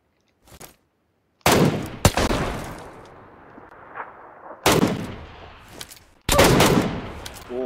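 Gunfire in the video game PUBG Lite: several loud, sharp shots in separate bursts, each trailing off into echo, with short quiet gaps between.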